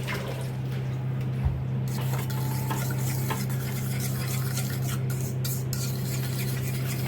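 A spoon stirs a yogurt mixture for doi ilish in a bowl, a steady soft scraping and sloshing with a constant low hum underneath, no talking.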